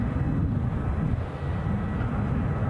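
An EasyJet airliner departing Edinburgh Airport gives a steady, distant low roar of jet engines that holds at a constant level throughout, with no voices.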